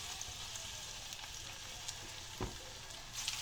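Onion pakoras fry in hot cooking oil over medium heat, giving a soft, steady bubbling sizzle with a faint clink or two, heard close and without any voices.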